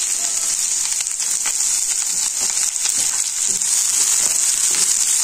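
Finely chopped onion frying in oil for a samosa filling hisses in a dense, continuous sizzle, close and even, with faint crackles and no talking.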